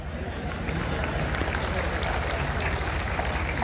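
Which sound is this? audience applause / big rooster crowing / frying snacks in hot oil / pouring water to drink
audience applause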